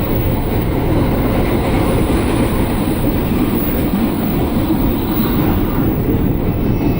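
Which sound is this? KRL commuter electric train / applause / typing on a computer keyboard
KRL commuter electric train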